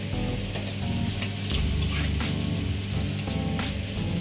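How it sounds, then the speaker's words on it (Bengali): Masala papad frying in oil at a fair stall, a loud, dense, continuous sizzle and crackle with a low mechanical hum underneath. "এক একটা করে পাঁপড় আমরা নিয়ে নিয়েছি, আর নিয়ে আমরা তেলের মধ্যে দিয়েছি।"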